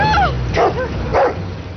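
Dogs barking and yipping in a 2015 film scene, a few close, harmonic barks and whimpering yelps in quick bursts over a low rumble, loud and alone with no talk.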